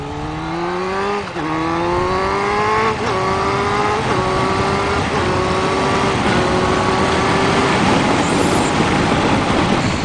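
A motorcycle cruising with the throttle lock on, its engine a loud, steady drone under heavy wind rush, with a couple of brief dips early on before it settles into an even, unchanging pitch while holding speed.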